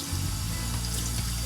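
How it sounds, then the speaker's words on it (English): Water runs steadily from a kitchen tap into a rice pot, a continuous close hiss and splash filling the pot with no speech. "Turn that tap on."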